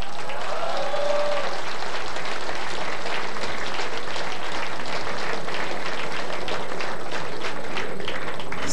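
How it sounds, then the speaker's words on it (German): Audience applause for a friend named Stefan at a German-language stage event, dense steady clapping from a crowd that carries on at an even level for the whole stretch with no talk over it. "einen Applaus auch für meinen Freund Stefan"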